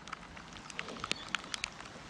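Rain falling on a kayak during a fishing trip, faint scattered drops pattering in irregular ticks over a soft hiss, close and quiet, with no talk.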